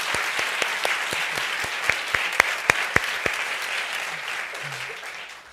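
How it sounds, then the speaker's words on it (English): Warm applause from an audience at a community initiative release event, steady dense clapping filling the room with a few sharper individual claps standing out, fading slightly toward the end. "Let's give them all a warm round of applause for all that they do."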